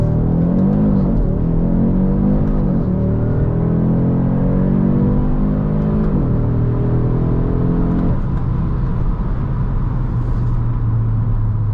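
A 2023 Audi RS 3 launches from a standstill and accelerates hard, its engine note rising loudly through several gear changes, heard from inside the cabin with no talk.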